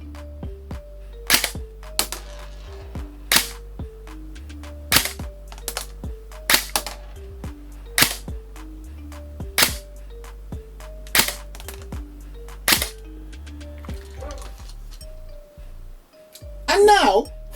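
An airsoft gun fires BBs through a chronograph, sharp, close single cracks spaced roughly a second apart over about fifteen seconds, followed by a brief noise at the end.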